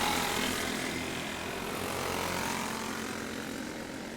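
Go-karts with box stock motors race around a quarter-mile track at night, a steady buzzing engine drone that holds fairly loud and even throughout with no talk over it.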